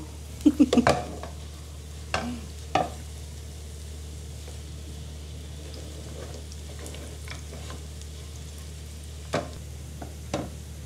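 Garlic fries in olive oil for a pasta with a steady low sizzle, close by. A few sharp scraping stirs of a utensil against the pan come at the start and again near the end.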